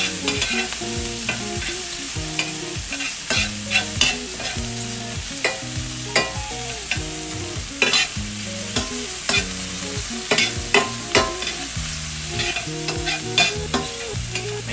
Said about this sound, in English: we're gonna give it a toss. We're gonna sweat the onions and the mushroom.